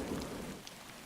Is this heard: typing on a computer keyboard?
no